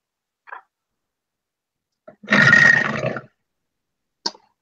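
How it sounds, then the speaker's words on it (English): A monster's roar during a jungle-exploration tabletop role-playing session: one loud, rough roar of about a second stands alone, with a few faint short noises before and after it. "Still just hearing this roar as you're eating your morning bits of meal."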